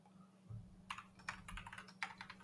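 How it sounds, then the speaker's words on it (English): Computer keyboard typing in a quiet room, a run of separate key clicks and clacks at close range, irregular in rhythm, over a steady low electrical hum with no talking. "I like to hear the clickety clack of your keyboard"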